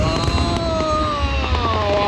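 A fireworks display heard as a constant crackling, hissing wash with faint soft pops scattered through it and rising whistling tones, steady and moderately loud.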